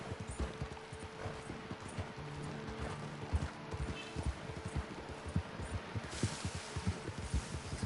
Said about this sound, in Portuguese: Anda, cavalinho.